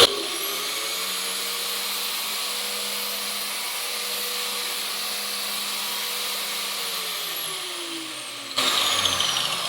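A GTM tile cutter motor hums in manual mode, a steady, loud, close whine sustained for several seconds before the pitch drops as it winds down, followed by a burst of rougher mechanical noise; nobody speaks.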